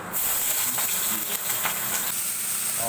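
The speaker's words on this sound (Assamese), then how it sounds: "তেলটো এইদৰে সম্পূৰ্ণভাৱে পকিব দিব, পিঁয়াজটো এইদৰে সম্পূৰ্ণভাৱে জ্বলিব দিব" Onions fry in hot oil for leta polu, giving a loud, constant hiss and sizzle close by, with no speech.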